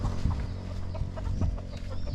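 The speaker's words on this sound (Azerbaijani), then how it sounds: "Xoruzlar, xoruzlar." Roosters and hens in a Vietnamese village clucking in short, close bursts, with low rural background noise throughout.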